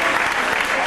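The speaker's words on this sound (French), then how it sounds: "Bonne main d'applaudissement, monsieur Itu" A studio audience on a 1990 French game show breaks into a brief, dense burst of clapping, loud and close.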